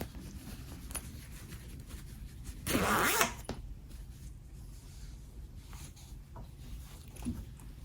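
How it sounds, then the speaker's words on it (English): A zipper on a quilted fabric glass case is pulled open in one quick rasping run of under a second, close and distinct against a quiet room hum. "I'm going to unzip this so I can sew it."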